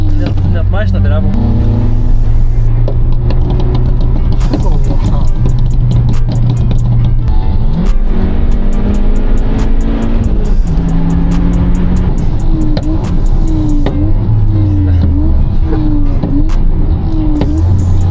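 A car engine revs loudly and steadily throughout, rising and falling in pitch, while people talk and shout nearby.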